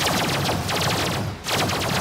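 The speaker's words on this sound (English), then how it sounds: "here we go with the laser cannons, just going full on" Laser cannons fire full-on in the sci-fi strategy game Age of Wonders Planetfall, a loud continuous run of rapid, overlapping gunfire-like blasts with a brief dip near the end before the barrage resumes.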